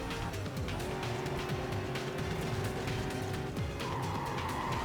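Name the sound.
Pontiac GTO car driving in video game Need for Speed Carbon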